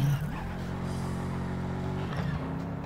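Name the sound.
car driving in video game Heading Out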